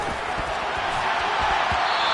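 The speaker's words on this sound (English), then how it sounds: "You can already start to hear this crowd" A football stadium crowd roars during a goal-line play, a dense, steady wash of cheering and shouting that fills the whole clip at full loudness.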